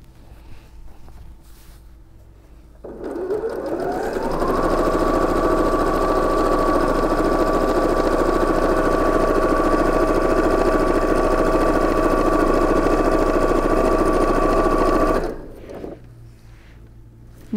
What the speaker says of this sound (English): then you can just keep sewing down the length of this apron